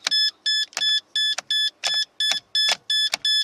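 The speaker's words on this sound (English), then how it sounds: "That beeping is this little thing that I added, just to let you know the lights are on when you turn the car off or the van off." Repeated electronic beeping from an added lights-on reminder buzzer in a Toyota Tarago (Previa) TCR10 van, about eight short, evenly spaced beeps over a few seconds, close and loud, with faint clicks between them.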